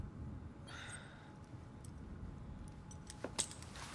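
Keys jangle as they are handed over in Assassin's Creed Syndicate, a few light metallic jingles near the end over a low steady ambient rumble, with no talk.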